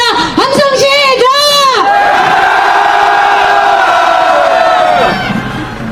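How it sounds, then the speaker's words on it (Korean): A large crowd at a candlelight rally in front of Daehanmun roars a collective battle cry: rising yells and whoops swell into a loud sustained shout that holds for several seconds, then tapers off. "함성 한번 질러보겠습니다. 함성 시작!"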